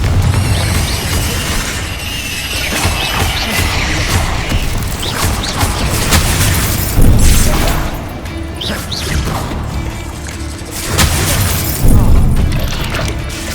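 Fiery Confringo blast spells explode during a Hogwarts Legacy PS5 fight against a giant spider: loud, dense booms and crashes layered with whooshes and impacts, with heavier bursts surging near the middle and end.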